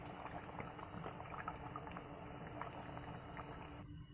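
Mutton curry simmers in a pot over the flame with a soft, continuous bubbling and burbling, faint and close, with no voices.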